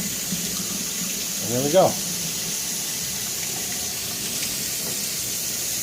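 Cold tap water runs steadily over a vinyl T-800 skull model kit, a constant close hiss that continues under a brief spoken remark.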